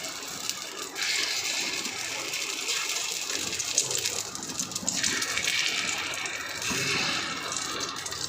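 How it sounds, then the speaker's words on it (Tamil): Pasi paruppu paniyaram batter pours steadily into a hot, oiled paniyaram pan, a continuous wet gushing sound with soft sizzle that swells and eases in several pours. "இப்போது இந்த பேட்டரை நம்ம எல்லாத்துக்கும் ஊற்றலாம்."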